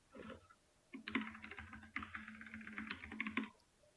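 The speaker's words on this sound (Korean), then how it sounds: "그냥 타이핑을 하셔도 상관없고" Computer keyboard typing during a web development lesson, with a short burst of keystrokes followed by a longer run of rapid, close clicking taps, fairly quiet and without speech.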